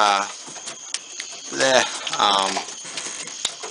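Pigeons inside a loft coo softly in a few short rounds, close by, among faint rustling and light tapping.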